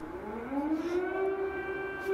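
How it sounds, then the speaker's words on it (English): An air raid siren in Kyiv wails steadily, its tone rising then holding, heard from a distance with faint background noise. "we've got a siren that has just started"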